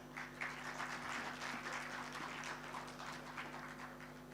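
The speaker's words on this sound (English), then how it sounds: "Ladies and gentlemen, a round of applause, please." Faint, distant applause from a conference audience as panelists take the stage, a soft steady patter of clapping over a constant low electrical hum.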